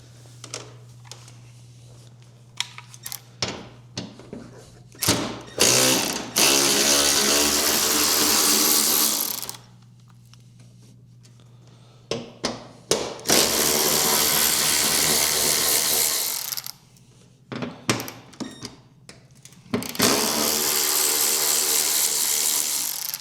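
A power tool removing bolts while carbon fenders are fitted to a Lexus IS250, three long loud whirring runs separated by quieter clicking and ratcheting, close by with no speech.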